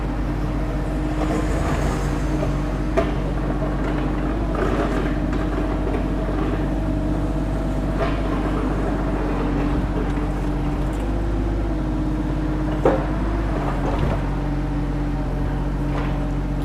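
Kubota excavator sold through the Thai dealer network, its diesel engine held at high revs in a steady, loud, continuous drone with a deep rumble and faint mechanical clatter throughout, with no talking over it.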